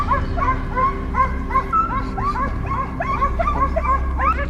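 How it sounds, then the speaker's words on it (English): Hunting dogs chasing wild boar, barking and yipping repeatedly in excited overlapping bursts with some whimpering, fairly close and continuous throughout. "The distant barking of dogs signaled that the prey was near."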